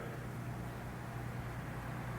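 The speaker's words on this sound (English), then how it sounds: "Here is the noise of the traffic." Steady road traffic noise, a constant broadband rumble and hiss with a low hum underneath, distant and even throughout, with no voices.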